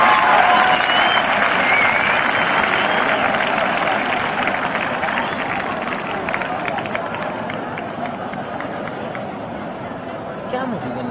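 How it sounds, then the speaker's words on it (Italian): Applause from a crowd inside a church at the Casaluce abbey sanctuary, a dense steady wash of clapping lasting throughout and easing slightly toward the end, with murmuring voices mixed in. "Facciamo un applauso"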